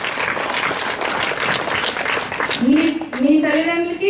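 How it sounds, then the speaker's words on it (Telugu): A crowd's steady, fairly loud clapping fills the opening seconds, then fades as a speaker's voice takes over near the end. "మీ తల్లిదండ్రులకి ఈ చప్పట్లు వినాలి."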